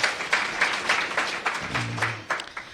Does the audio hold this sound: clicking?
no